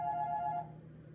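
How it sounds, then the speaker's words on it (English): A telephone rings faintly in one short electronic burst that cuts off abruptly, leaving quiet room noise. "I would just answer it real quick, but our phone is connected to the shop"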